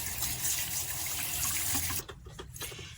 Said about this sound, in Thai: เวลาเราลดน้ำเราอย่าใส่ ให้มีน้ำขังเยอะนะคะ